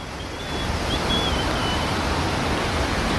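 Steady broadband rushing of falling water at Homurlu Waterfall in Adana, constant and fairly loud, with a faint thin whistle drifting above it early on.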